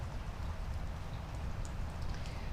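Rain falling outdoors on a street where someone walks a dog, a steady broadband patter with a low rumble underneath, even and unbroken for a few seconds with no speech.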